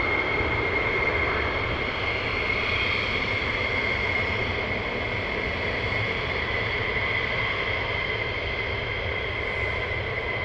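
A military jet at RAF Lakenheath roars with afterburners, a loud, steady, sustained rumble that holds for several seconds with no talk.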